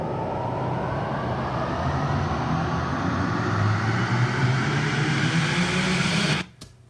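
A roaring jet-taking-off effect spread across a rock song breakdown: a loud, continuous broadband rush with a slowly shifting tone, sustained for several seconds before cutting off abruptly.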